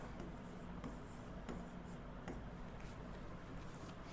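Marker or pen writing out the ionic form of KMnO4 on a board during a chemistry lesson, steady scratchy strokes with a few sharp taps, fairly faint against a constant background hiss.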